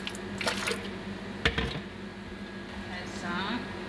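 A small splash of water goes into a lightly sweetened cooking mixture, giving brief, soft liquid squishes and drips at close range over faint background noise.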